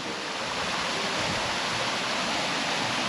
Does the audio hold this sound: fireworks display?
no